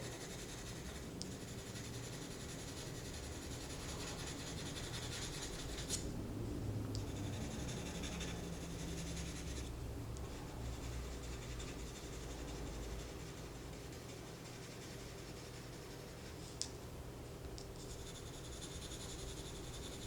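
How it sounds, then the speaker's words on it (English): A pencil shading a still life of apples on paper with light pressure, producing a continuous soft scratchy hiss of back-and-forth strokes, with a few brief pauses, close and quiet, and no talking. "I'm not pressing real hard, I'm just letting the pencil do the work."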